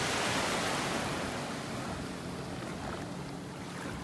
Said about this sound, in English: A couple boats zipping by just on the other side of the buoys there